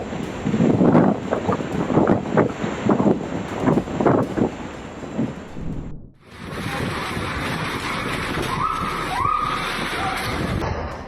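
Powerful storm wind gusts roar and buffet the microphone, loud and turbulent throughout, cutting out abruptly midway before a steady rushing wind returns with faint higher tones.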